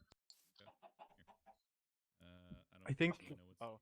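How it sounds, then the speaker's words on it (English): A video-game chicken clucks in a short burst of squawky, harmonic calls, loud and close, after a stretch of quiet and scattered voice-like chatter. "Chicken."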